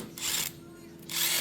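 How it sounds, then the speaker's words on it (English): A power drill, fitted to clean up a battery cable on a Massey Ferguson TE20 tractor, whirs in two short close bursts with a brief pause between them. "We're just getting this all cleaned up real quick with the drill."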